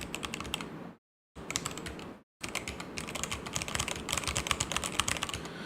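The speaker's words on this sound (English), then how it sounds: "I'll type it once again." Fast, close typing on a computer keyboard, dense clicking keystrokes with two brief pauses, steady and clear with no voices.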